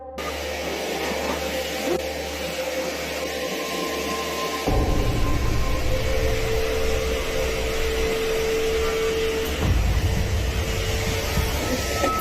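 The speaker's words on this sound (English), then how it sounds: "casually vacuuming the hallway carpet" A vacuum cleaner drones steadily on a hallway carpet, a loud continuous whirring hum whose pitch and load shift as the machine is pushed, with no talking.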